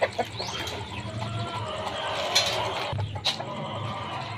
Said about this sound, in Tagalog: Ayan, ang dami niyang manok, guys.